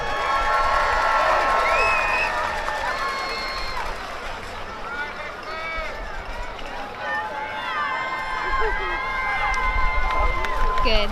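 A crowd at a regional championship football game cheers for the halftime show performers, a loud sustained roar of cheering, shouting and applause in a stadium, with a public address voice over it.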